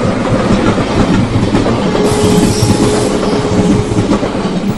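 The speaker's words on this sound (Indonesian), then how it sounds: "Samar-samar aku mendengar suara kereta api dari kejauhan." A train rumbles past on the rails with a steady clatter and a faint thin squeal, loud and close throughout.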